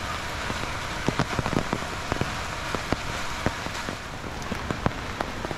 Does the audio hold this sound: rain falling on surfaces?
yes